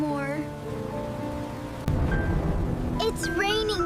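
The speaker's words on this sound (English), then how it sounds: "It's raining so hard." Heavy rain pouring in a steady hiss with a low rumble, growing louder partway through, heard beneath voices speaking.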